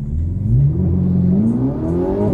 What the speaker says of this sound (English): You can hear the turbo spool, you can hear the downshifts, you can hear the crackles, the pops.